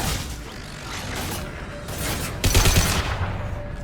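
Automated turret gunfire in a sci-fi shooter battle aboard a huge Geth station in Mass Effect 2, heard as dense, continuous bursts with booming impacts that swell louder near the end.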